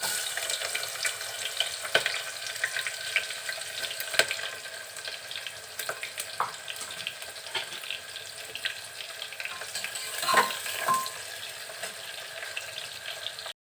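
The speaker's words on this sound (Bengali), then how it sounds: "তেল একটু গরম হলে এর ভিতরে দিব গোটা মশলা, 2টা তেজপাতা আর কিছু গরম মশলা। দিচ্ছি পেঁয়াজ কুচি" Chopped onion fries in hot oil with whole spices, bay leaves and garam masala for a chicken and potato curry in a pressure cooker. The close, continuous crackling sizzle carries scattered sharper pops, and no one speaks.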